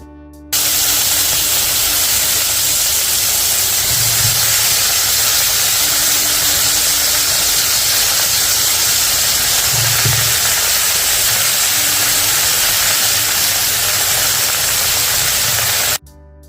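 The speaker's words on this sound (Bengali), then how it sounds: "একই পাত্রে সামান্য কালো জিরা দিয়ে আলু বেগুনগুলো ভেজে নেব" Potatoes and eggplant fry with a little black cumin in the same pan just used for hilsa fish, giving a loud, steady hiss of sizzling oil that runs without a break, with a couple of soft low bumps underneath.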